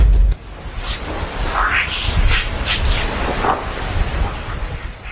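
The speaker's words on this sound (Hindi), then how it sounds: "ये उन उल्का पिंडों की आवाज है जो सूर्य की ताकतवर ग्रेविटी की वजह से उसके चारों तरफ बंधे हुए रहते हैं" A sonification of meteoroid dust striking the Parker Solar Probe near the Sun: a steady wash of rushing noise carries scattered soft chirping and whooshing tones for about five seconds, with no voices.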